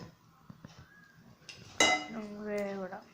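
Dishes and cutlery clink and rattle as they are rinsed after pancake-making, a few light taps and scrapes followed by a louder splash of running water near the microphone, with soft speech at times.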